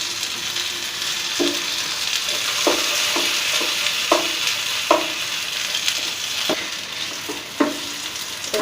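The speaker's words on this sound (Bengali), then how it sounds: "আর এই একইভাবে আমি বাকি কচুগুলোকেও ভেজে নেব, এপিট ওপিট করে 2 পিঠ খুব ভালোভাবে ভেজে নেব।" Pieces of narkeli kochu taro fry in hot oil, giving a soft continuous sizzle with scattered faint clinks and scrapes of a utensil against the pan as they are turned.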